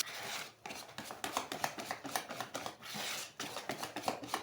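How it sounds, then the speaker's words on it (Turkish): Wire whisk beating a runny dessert batter in a bowl, a fast steady scraping rhythm of dense clicks and swishes, close and continuous with a couple of brief pauses. "Şimdi tel çırpacağıyla çırpacağım bu aşamadan sonra."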